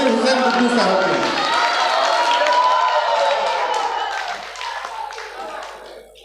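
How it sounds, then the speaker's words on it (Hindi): A mushaira crowd at an Urdu poetry gathering claps and cheers for a poet, with voices and shouts mixed into the clapping; the noise starts loud and gradually fades over several seconds. "जरा तालियां बजाने"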